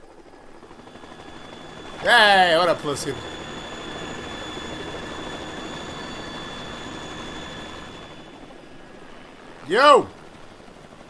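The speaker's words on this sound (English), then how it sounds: "He has a legit helicopter." A helicopter in the video game Metal Gear Solid 2 keeps up a steady mechanical drone with a whining tonal hum, heard under short bursts of game character dialogue at the start and near the end.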